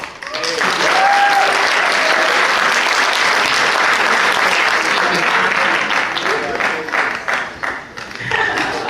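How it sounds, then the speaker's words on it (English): Sustained round of applause from an audience at a youth engagement event, dense steady clapping filling most of the stretch and thinning toward the end, with faint voices mixed in. "That means round of applause"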